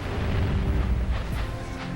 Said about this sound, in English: now the cannons up there are firing these exploding gunpowder bags